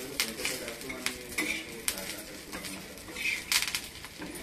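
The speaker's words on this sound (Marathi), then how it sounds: "आता आपण त्याच्यामध्ये थोडा कढीपत्ता टाकूया, थोडासा तेजपत्ता टाकूया आपण आणि एकदा असं चांगलं परतून घेऊया त्याला।" Curry leaves, bay leaves, onion and whole spices sautéing in a pan for a Maharashtrian watan masala paste: crackling sizzle under repeated clinks and scrapes of a stirring spoon, close and steady.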